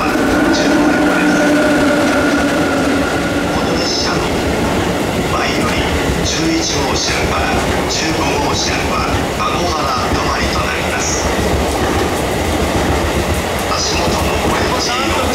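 A Takasaki Line train at a busy station rumbles loudly and continuously with rail clatter close by, under a station announcement.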